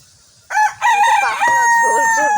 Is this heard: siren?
no